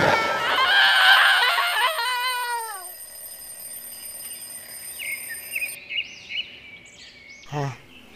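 A man screams in fright inside a cave, a loud wavering cry lasting about three seconds, then fading into quieter tones with one short sharp sound near the end.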